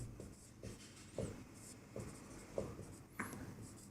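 Pen or chalk writing during a Class 10 geometry lesson on triangles, heard as faint, close scratching strokes in short repeated bursts about every half second, with no voices over it.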